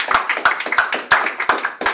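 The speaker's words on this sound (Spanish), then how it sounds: "Un aplauso." Audience applause following a talk on HackRF and radio experimentation at an amateur radio association event, heard as a run of crisp, close hand claps with irregular rhythm that stays fairly steady across the whole moment.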